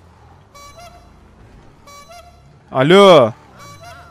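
A car horn in GTA 5 sounds one loud, sustained honk with a wavering pitch, standing out over quieter background game sounds. Other horn-like honks are fainter, and a voice briefly speaks.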